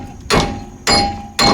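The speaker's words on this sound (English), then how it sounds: "now we're just going to take the hammer and hit this a couple times" A hammer strikes a wheel bearing tool on a Subaru Forester three times, each blow a sharp, loud metallic crack at an even, unhurried pace, with brief ringing decay and no talking.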